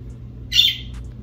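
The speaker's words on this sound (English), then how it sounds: "I'm so sorry if y'all hear a bird tweeting." A pet bird tweets indoors with a single brief, bright chirp near the middle, heard alone over a low steady room hum.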